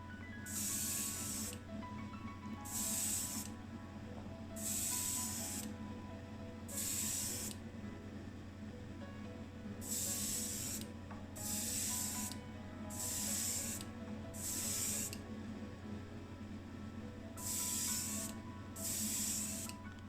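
Tamiya gold leaf spray paint is applied to a model car in about nine short, even bursts of hissing aerosol spray, close up, with a low steady hum running underneath.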